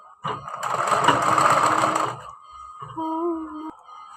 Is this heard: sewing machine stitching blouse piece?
yes